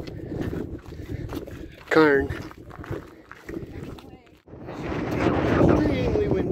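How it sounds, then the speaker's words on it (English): Strong wind on the Appalachian Trail roars and buffets the microphone in gusts, with a person speaking briefly over it. "Extremely windy right now. Wind is blowing severely."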